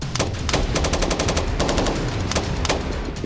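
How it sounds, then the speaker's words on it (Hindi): Rapid gunfire from Israeli soldiers' combat training in a mock Gaza-style town, with dense bursts of automatic shots in quick succession, loud and continuous throughout. "इमारतों के अंदर घुसकर गोलीबारी करने का अभ्यास कर रहे हैं।"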